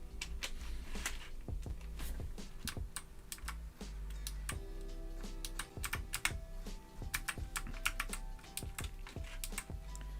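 A newly built mechanical keyboard with a new style of keycaps, typed on close up in a fast, uneven stream of crisp clacks that runs without a break.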